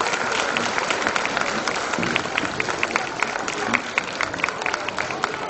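An audience claps steadily throughout, a dense and continuous round of applause.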